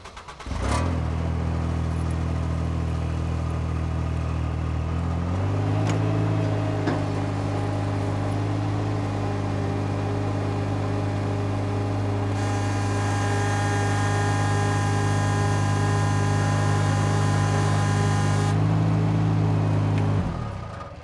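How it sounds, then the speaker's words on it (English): A Ventrac tractor runs steadily at close range while its mower deck is flipped up, a sustained engine drone that rises in pitch partway through and then cuts off near the end. "We'll hop on the tractor and get this deck flipped."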